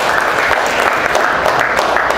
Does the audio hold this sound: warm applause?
yes